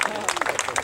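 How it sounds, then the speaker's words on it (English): A wedding reception audience applauds as the best man is welcomed up, a short burst of dense, rapid clapping close by with voices mixed in. "give a round of applause to Neil as he makes his way up here"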